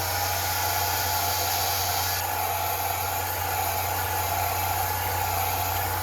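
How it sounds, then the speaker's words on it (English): Blow dryer drying a layer of hairspray used as wig glue, a steady close whooshing roar held continuously throughout. "get my blow dryer"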